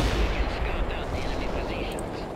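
Dense rolling artillery and gunfire rumble from the battlefield of the video game World in Conflict, a continuous loud barrage of booms with voices talking over it.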